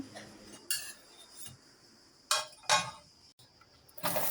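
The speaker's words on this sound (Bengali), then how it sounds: "চাপড়ি ভাজা হয়ে গেছে, তারপরে এখন আমি মাংস কাটে নিলাম।" Meat is cut with cutlery on a plate in a quiet kitchen: a few sharp, separate metallic clinks and scrapes, close and crisp, with near silence between them.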